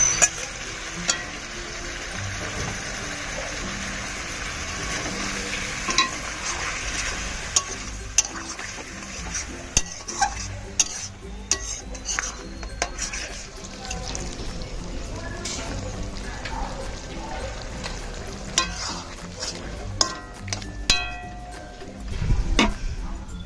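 Kadai chicken with tomato paste stirred in a pan, a continuous sizzling fry with frequent scraping spoon clicks, under occasional speech.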